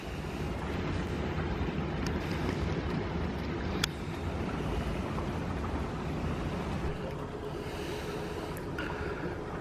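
An ADJ Entour ICE fog machine runs outdoors, putting out a steady, loud, broadband hiss and rush that carries on unbroken, with a sharp click partway through.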